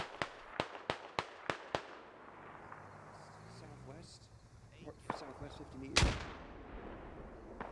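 Gunfire and grenade explosions in a tactical shooter game: six sharp, evenly spaced shots open the clip, then quieter scattered reports lead to one loud blast near the end, with a voice speaking over the mix.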